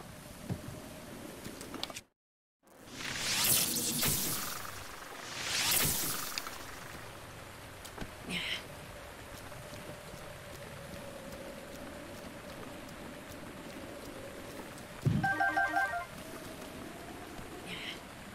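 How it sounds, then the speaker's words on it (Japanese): Rain falls in the Zelda: Breath of the Wild video game, a steady broadband hiss that continues throughout. A few louder whooshes and brief small effects sound on top, and there is a short silent gap near the start. "雨降ってきた。"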